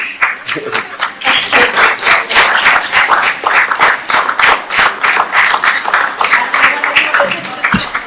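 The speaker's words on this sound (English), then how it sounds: "That's the first spontaneous applause we've had in the room" Spontaneous applause breaks out from a business technology forum audience, loud, close, fairly sparse clapping with distinct individual claps and some voices underneath, continuing steadily throughout.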